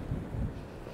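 Steady low rumbling wind buffeting the microphone, a dull continuous roar with a couple of stronger gusts early on.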